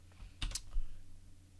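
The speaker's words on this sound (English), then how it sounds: "So I will hit A on the keyboard." Two or three soft, close clicks of computer keyboard keys are struck in quick succession over a low steady background hum.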